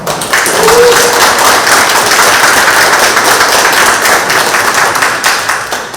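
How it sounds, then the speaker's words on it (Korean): Audience hands clap briskly at a poetry book concert held in a rural cultural space, loud and close, a steady flurry of individual claps that barely thins out. "박수 한번."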